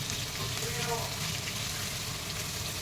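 Onions fry in oil in a pan, a steady close sizzling hiss that holds at an even level from start to finish.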